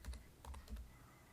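Quiet typing on a computer keyboard, a few soft key clicks in small clusters over a faint, steady room hiss.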